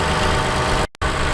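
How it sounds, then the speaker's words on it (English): Lexus 3.5 liter double overhead cam engine idling under the hood, with direct injectors ticking, a loud steady close-up hum and rapid mechanical chatter, briefly cutting out for an instant before resuming. "You can hear the direct injectors"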